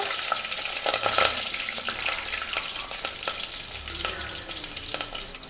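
Green chilies sizzling in hot coconut oil in a clay pot after mustard seeds have popped, a steady close-up frying hiss with crackling pops and faint stirring throughout.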